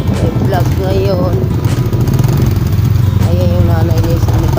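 A motorcycle engine runs steadily and loud throughout, with a continuous low drone close by and a voice talking over it at moments.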